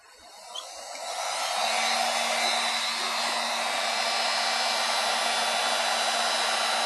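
A heat gun switches on during aluminum dent repair and settles into a loud, steady blowing whoosh close by, with a faint whine underneath.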